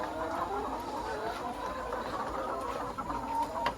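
Hens cluck on a poultry farm, a dense overlapping chorus of many birds murmuring and clucking continuously at moderate distance.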